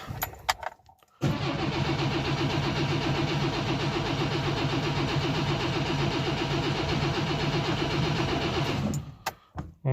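A Polski Fiat 125p engine cranks briefly, then catches and settles into a loud, steady running note up close for several seconds before cutting off; no one talks.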